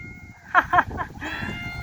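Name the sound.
cat meowing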